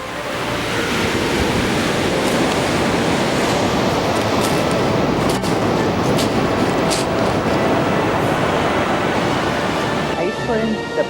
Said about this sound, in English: We are at the ocean.